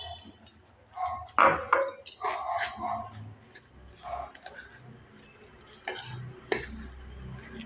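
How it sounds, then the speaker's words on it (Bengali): Carrot snack batter being mixed with hot water, with a utensil knocking and scraping against a bowl in uneven clattery bursts while someone talks over it. "এবার এটাকে মিক্স করে নিচ্ছি"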